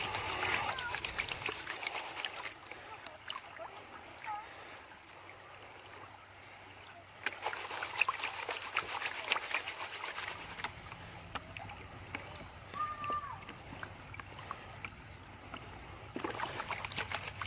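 Sluice material is swirled in a gold pan in creek water, giving soft continuous sloshing and trickling with brief splashy surges, heard fairly close in an outdoor setting without talk.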